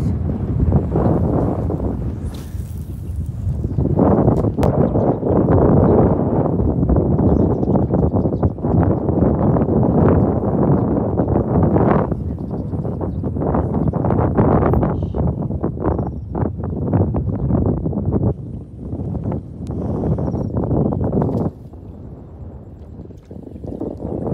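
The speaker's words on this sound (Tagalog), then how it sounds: "Medyo mahangin guys." Strong wind buffets the microphone with a heavy, continuous rushing roar, broken by gusty fluctuations and occasional knocks.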